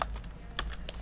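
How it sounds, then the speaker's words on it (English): Typing text on a computer keyboard, a quick close run of light key clicks in an uneven rhythm, alone and fairly quiet. "we're going to type in a little text"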